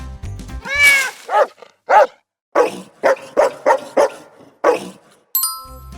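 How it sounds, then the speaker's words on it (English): A farm dog barks repeatedly, a string of close, loud, clipped barks with short pauses between them, starting with a longer yelping bark. "Farm dogs bark to guard the animals, but sometimes they bark just because they want to play."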